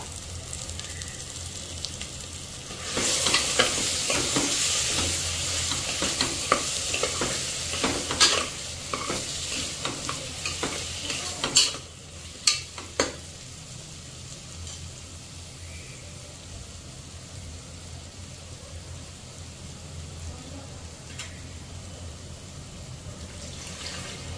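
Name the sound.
potatoes and spices frying in a pan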